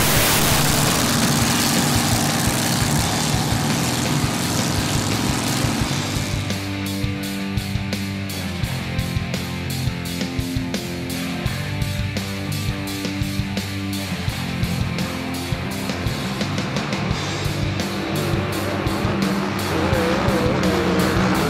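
Racing hydroplane boats with engines of about 1500 horsepower and speeds near 250 km/h roar steadily at a regatta, a loud continuous engine drone that swells in pitch and holds throughout with no talk.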